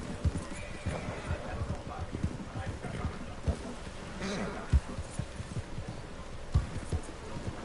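Horse neighing and galloping in Red Dead, rapid hoof clip-clops running steadily throughout with whinnies mixed in, fairly loud over a busy game background.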